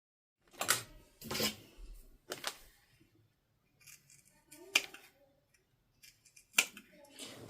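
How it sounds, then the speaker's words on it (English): Scissors snip the corners of sewn fabric pieces in a series of crisp, close cuts spaced unevenly, with quieter handling noises between them. "Afterwards, I'm going to snip the corners,"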